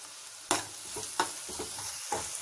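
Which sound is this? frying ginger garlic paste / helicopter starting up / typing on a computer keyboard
frying ginger garlic paste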